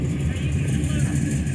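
A boxy Chevrolet Caprice with its engine idling, a steady low rumble that holds evenly throughout without revving.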